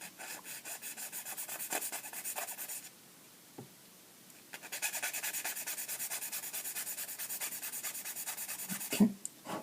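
A bastard file is drawn along the edges of a small part to smooth them, giving repeated close, faint rasping strokes with a brief pause partway through.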